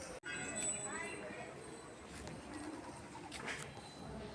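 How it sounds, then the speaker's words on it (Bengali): Birds calling outdoors in a residential area after rain, including mynas, with soft coos and chirps at a moderate distance over quiet background ambience. "অনেক আছে, অনেক রকমের পাখি আছে।"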